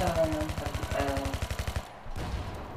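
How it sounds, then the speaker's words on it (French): Rapid automatic gunfire rattles in a steady, evenly spaced burst during a Battlefield 3 battle, loud and close, then cuts off and leaves a lower rumbling of combat noise. "Qu'est-ce qu'il tire là? Ah ouais c'est bien un char."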